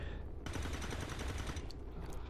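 Gunfire in the video game XCOM 2, a rapid burst of shots that starts abruptly and continues as a loud rattling volley.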